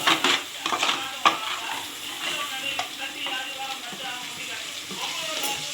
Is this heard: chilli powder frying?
yes